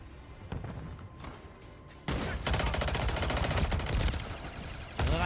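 Video game gunfire in a tactical shooter, quieter scattered shots at first, then a loud, dense burst of rapid automatic fire that runs on steadily, with a fresh loud volley near the end.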